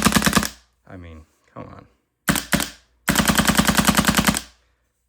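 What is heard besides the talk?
Planet Eclipse Autococker paintball marker shooting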